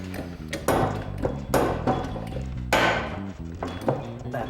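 A new Lotus pinion bearing being tapped into place through an old bearing and a socket, giving a series of sharp metallic knocks at an uneven pace, close and fairly loud.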